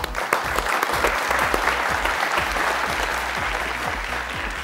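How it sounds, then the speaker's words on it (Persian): Studio audience applauding on a Family Feud-style game show, sustained dense clapping close by throughout, with faint voices beneath. "تشویق کنیم."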